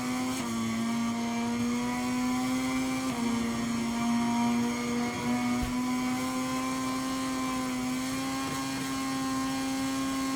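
A racing motorcycle engine in the video game MotoGP 23 holds a high, steady whine through the corners at Mugello, with the pitch shifting slightly as the bike accelerates, loud and continuous.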